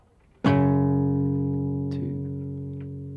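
A single plucked guitar chord from an easy finger-picked arrangement rings out near and clear, struck once and left to sustain and slowly decay, with a couple of faint light touches later on.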